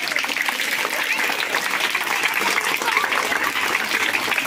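An audience applauds with dense, sustained clapping from many hands, steady and fairly loud throughout, with a voice faintly audible beneath.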